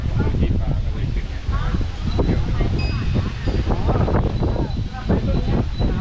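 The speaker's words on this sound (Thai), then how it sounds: "ลมเย็นมากเลยนะเจ้าข้างบนนี่หนาวเลย" Cold wind gusts around a high glass bridge, buffeting the microphone in loud rough bursts throughout while people talk underneath.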